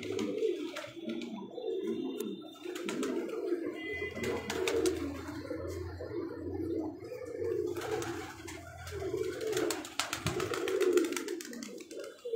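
Pet pigeons coo steadily in soft, overlapping rounds, close and moderately loud, with a few brief clatters and a faint low hum underneath.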